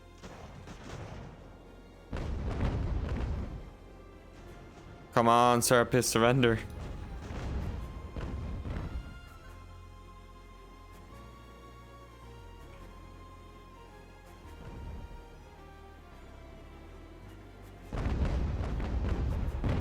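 Naval cannon fire from sailing warships in Ultimate Admiral: Age of Sail, several loud booming broadside volleys with a short gap between them, someone speaking briefly between the blasts.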